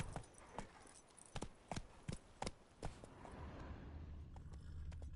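Hooves of Roach, a horse in a PS4 video game, clop in a brisk, uneven rhythm of sharp, close strikes, roughly a dozen beats, before thinning into softer hoof sounds over a low rumble.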